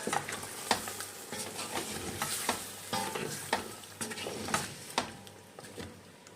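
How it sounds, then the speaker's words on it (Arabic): Homemade tomato paste frying and being stirred in a pan for Algerian chtitha, a steady sizzle punctuated by repeated scraping strokes of a utensil against the pan. "وهلا بننزل بمعجون الطماطم اللي سويناه، وبنحركهم مع بعض."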